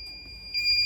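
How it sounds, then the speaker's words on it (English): A Bosch WAE28366GB/28 washing machine sounds its beep at the loudest setting: a steady high-pitched electronic tone that swells louder partway through, clear and close with no talk. "It's a really loud beep, but that's the highest beep you can do."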